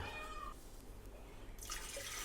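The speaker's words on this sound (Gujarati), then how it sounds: "ચલો કુકરમાં પાણી વેળી દઈએ" Water poured from a glass into a pressure cooker makes a faint, steady splashing rush that brightens toward the end.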